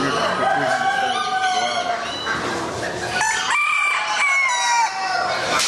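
Several hens cluck and chatter continuously, close and loud, with a rooster crowing among them in a busy barnyard din.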